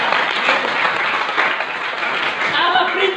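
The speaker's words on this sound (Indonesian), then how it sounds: "Tepuk tangan." A congregation claps during a church sermon, with busy mixed clapping and crowd noise continuing under a preacher's voice.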